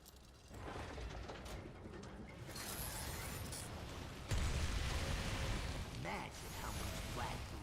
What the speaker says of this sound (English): On your left, Venture's new Mark 78 Black Blood Extractor.